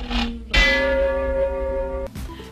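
A large bell rings out with a long, humming resonance that lingers, and a second strike sounds near the end.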